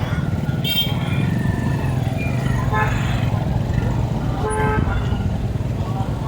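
Market-day traffic jam in Mandavgan Pharata, with cars and motorcycles honking in short toots over a steady rumble of engines and road noise, close and busy throughout, with voices in the background.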